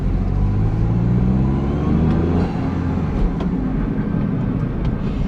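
A Honda S660, a small 660cc turbocharged roadster, drives along a back road. Its engine holds a steady low drone with some wavering pitch and road noise throughout.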